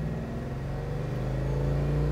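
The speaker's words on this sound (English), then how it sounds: "listen to that exhaust." A 1970 Chevrolet Chevelle's exhaust revs steadily with a deep, throaty rumble and a droning engine tone that climbs slightly, close by and continuous.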